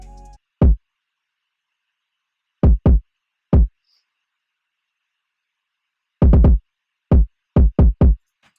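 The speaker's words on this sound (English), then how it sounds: "the last element for this beat is a kick that comes in the second part of the hook" Isolated kick drum pattern entering in the second part of a hip-hop hook, punchy low thumps in short clusters separated by silence, clear and close.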